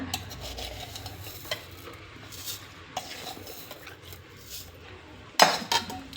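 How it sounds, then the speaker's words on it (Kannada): A spoon scoops sugar into fresh kiwi juice with soft stirring scrapes and light clinks against the container, close and quiet, ending in a brief sharper clatter. "ಈಗ ಇದಕ್ಕೆ ನಾವು ಒಂದು 3 ಸ್ಪೂನು ಸಕ್ಕರೆ ಹಾಕೋಣ."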